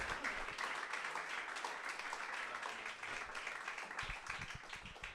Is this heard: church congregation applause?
yes